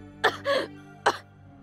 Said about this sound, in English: You're coughing up blood.